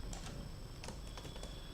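Code being typed on a computer keyboard: a quick, uneven run of light key clicks, close and fairly quiet over a steady background hum, with no talk.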